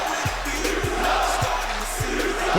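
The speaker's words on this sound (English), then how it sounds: "Listen to the crowd." A virtual arena crowd roars through a six-man tag match in the wrestling game WWE 2K25, a dense, constant wash of cheering and shouting punctuated by regular low thumps.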